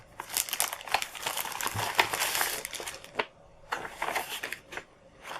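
Plastic packaging of a counted cross-stitch kit crinkling and crackling as someone struggles to open it, in dense close bursts with short pauses between.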